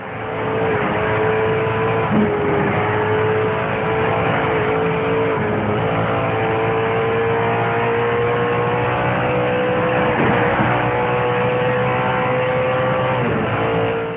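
Audi and BMW race cars in Need for Speed Shift drone loudly and continuously, the engine note holding steady with brief dips where gears shift, close and without pause.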